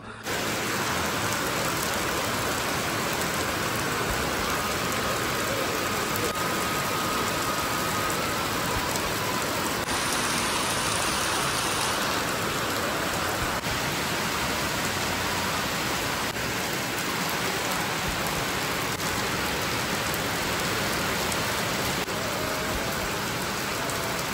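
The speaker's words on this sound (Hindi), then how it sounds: "और आज तो सुबह सुबह ही बारिश लगी है" Steady morning rain falling in the mountains, a dense continuous hiss of drops on surfaces that stays even and moderately loud throughout, with no voices.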